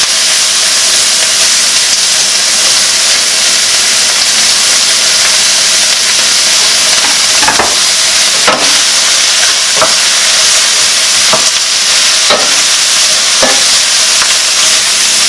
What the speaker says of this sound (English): Now I'm gonna go ahead and add a little bit of cabbage.